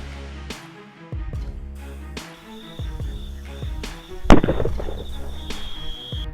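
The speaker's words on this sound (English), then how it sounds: "Without hesitation, the hunter squeezes the trigger. One precise shot immediately drops the animal." A rifle fires during a night hunt for wild boar in an open field. Several sharp, loud reports sound close, with one especially strong blast, over low background noise and a steady high tone.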